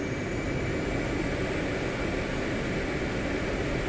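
A jet aircraft rolls for takeoff on the Sinai map in DCS World, its engines giving a steady, loud, unbroken broadband roar with no voices over it.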